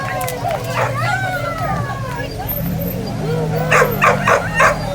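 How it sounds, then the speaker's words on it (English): A dog barks and yips a few times at moderate distance on a Cape Cod street, mixed with passing traffic noise while people talk over it. "Look at that dog."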